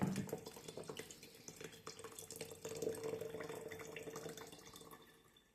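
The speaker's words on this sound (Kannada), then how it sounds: "ತುಂಬ ಮಂದ ಇರೋದಕ್ಕೆ ಸ್ವಲ್ಪ ನೀರು ಹಾಕ್ತಾ ಇದ್ದೀವಿ" Water is poured into thick sapota juice as a steady, continuous stream that splashes and trickles close by throughout, fading slightly at the end, with no talking.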